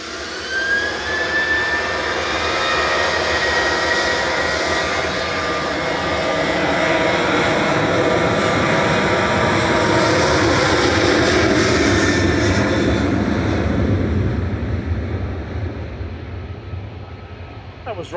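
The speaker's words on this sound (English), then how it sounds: "That was Ryanair 6816 to Milan, EBV." A Ryanair jet airliner, flight 6816 to Milan, passes by at Manchester Airport, its engine roar building loud and rising in pitch before fading away; a voice talks over it.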